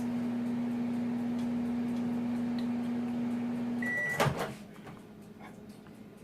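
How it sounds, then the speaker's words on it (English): A microwave oven hums steadily for about four seconds while heating a protein brownie bar, then a sharp beep and the clunk of the door opening end the run, leaving quieter room noise. "So I'm just going to microwave it for 10 seconds"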